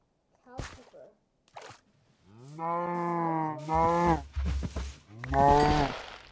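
Cows in the Minecraft video game moo in a run of long, low, drawn-out calls, loud and close, after a few short clicks, with one moo following another.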